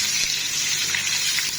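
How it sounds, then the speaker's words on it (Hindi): Ghee poured into a hot pressure cooker gives a continuous bright hissing gush, close and fairly loud, lasting the whole short moment. "इसमें डाल देते हैं घी।"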